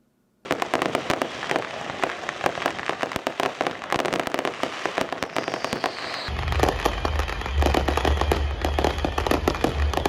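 Fireworks at a Renaissance festival fire show crackle in dense, rapid bursts of pops and bangs after a brief silence, growing heavier with a deep rumbling undertone in the second half, no talking.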